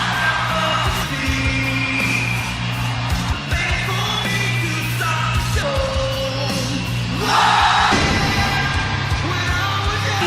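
Wrestling arena crowd at a WWE SmackDown show, a dense continuous roar of yelling and cheering that swells louder near the end, with music-like tones underneath and no clear talk.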